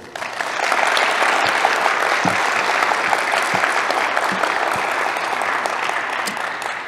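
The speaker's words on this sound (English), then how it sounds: "give a big round of applause for all of our teachers and schools" An audience at a school Black History Month oratorical contest in Kingsport, Tennessee breaks into loud, sustained clapping that swells quickly and holds steady for several seconds, filling the hall without any voices.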